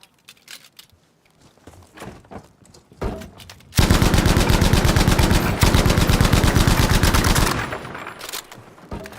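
Sustained automatic gunfire in ArmA Reforger, a dense, loud rapid stream of shots lasting several seconds after a few scattered earlier bursts, then cutting off abruptly.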